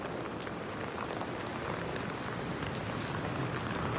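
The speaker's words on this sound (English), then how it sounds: "Well, it's raining, Rick." Rain falls during a summer storm in New Carlisle, Michigan, a faint, even hiss of drops that holds steady with no voices.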